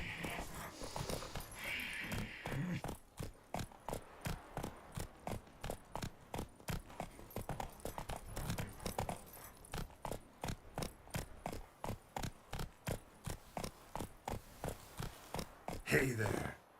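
Roach the horse's hooves clip-clop at a steady walking rhythm in The Witcher 3, a long run of evenly spaced, fairly close hoof strikes with some brief sounds at the start and end.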